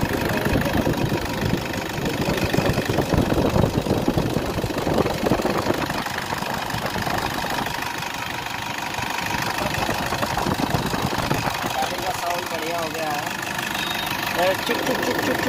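A Toyota Innova 2014 engine idles steadily after a new alternator belt is fitted, a close, continuous mid-pitched running hum with slight knocking texture and no audible slipping or chatter, while people talk nearby.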